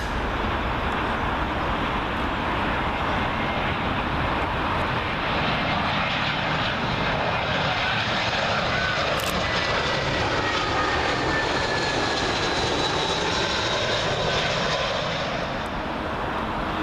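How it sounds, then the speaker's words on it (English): Loud, sustained jet roar of a British Airways A320 arriving from Madrid, passing low over houses on approach to Heathrow runway 27L, with a broad rushing noise and faint whine holding steady throughout. "British Airways A320, arriving in from Madrid"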